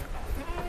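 A young Peranakan Etawa goat kid, about two and a half months old, gives a single short, close bleat on a farm.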